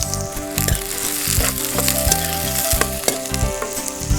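Roughly chopped onions frying in a pan, a dense, loud sizzle with intermittent stirring scrapes close up and no speech.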